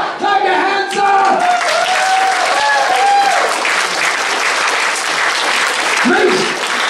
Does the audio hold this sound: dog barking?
no